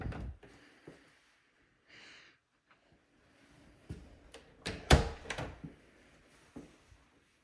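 Coat closet door in a house with luxury vinyl plank flooring, opened and closed with soft rolling and sliding noises, then a cluster of clicks and a firm thud, close and quiet overall.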